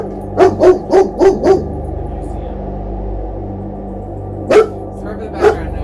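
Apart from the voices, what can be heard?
dog barking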